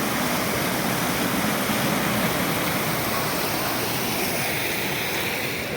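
The river at Hurricane Harbor water park, Six Flags St. Louis, flows with a steady broadband rush of water, constant and fairly close, with no talk over it.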